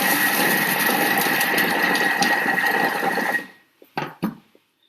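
A food processor whirs at speed 4 as it chops broccoli, a steady loud motor hum that winds down to silence, followed by a few light knocks.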